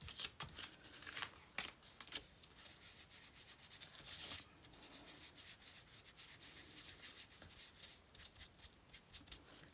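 Paper edges of a handmade scrap journaling card being distressed, with soft close scraping and rubbing strokes in quick irregular bursts, quiet and with no voices.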